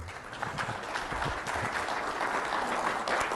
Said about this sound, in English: Round of applause for Mr. Jeff this morning.